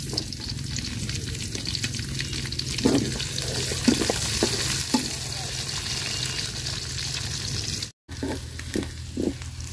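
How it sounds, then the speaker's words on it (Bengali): Sliced onion and green chili fry in hot oil for a pond-fish and sweet pumpkin curry, giving a steady close sizzle broken by a few sharp stirring clicks and a brief cut near the end. "পেঁয়াজটা আর মরিচটা আমি ভাজা নিছি।"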